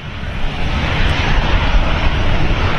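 Boeing 787 Dreamliner jet at Manchester Airport, a loud, close, continuous engine roar with rumbling low end, steady for the whole few seconds and without talk.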